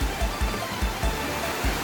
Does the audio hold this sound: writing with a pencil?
no